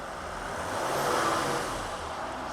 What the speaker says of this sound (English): is to run the car at 2000 RPM for 30 seconds